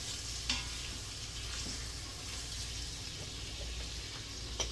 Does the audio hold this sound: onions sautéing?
yes